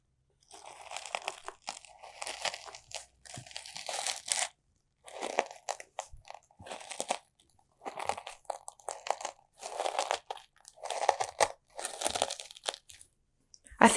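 Loose tea crunched by hand for DIY foley, giving a run of close, dry crackling bursts in short uneven clusters separated by brief silences, like footsteps over dry forest litter.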